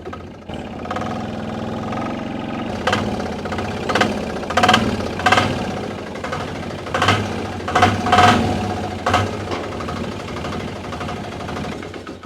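An old diesel engine runs steadily with a low, rough knocking rhythm, fairly close and continuous.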